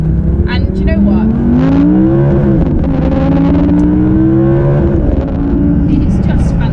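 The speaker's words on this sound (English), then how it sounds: "you've also got that fantastic sound of the V10 sat right behind you" A 2019 Audi R8 V10 engine rises and revs steadily from just behind the cabin, loud and continuous, its pitch climbing through the gears under a strong drone of road noise.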